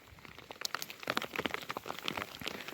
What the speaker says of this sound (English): the hail's coming down pretty hard